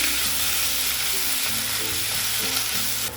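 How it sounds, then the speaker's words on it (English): Squid and sauce stir-frying in a hot pan for a spicy Korean squid dish, a loud steady sizzle with stirring scrapes running throughout, no talking. "Add the squid and sauce and stir-fry quickly for 1 to 2 minutes."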